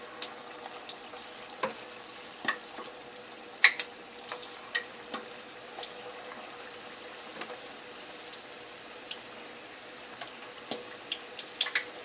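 Carrot fritters fry in steady sizzling oil with scattered pops and crackles, a continuous frying hiss with no talk.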